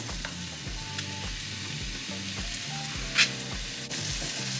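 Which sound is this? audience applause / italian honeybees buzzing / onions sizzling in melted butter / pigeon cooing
onions sizzling in melted butter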